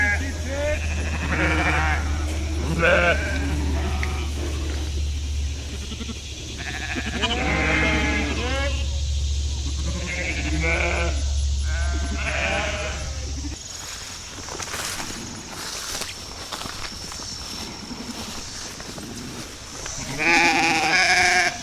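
A flock of sheep with their lambs bleats repeatedly, many overlapping calls near and far as they pour off a wooded hillside onto a farm, with a steady low hum under the first half and brief talk.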